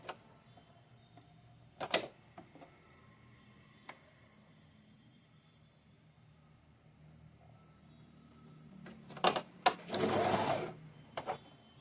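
Sewing machine joining seams on a small dhoti dress for a Laddu Gopal idol, heard as a brief faint whir near the start and a louder short run of stitching toward the end, with quiet handling between.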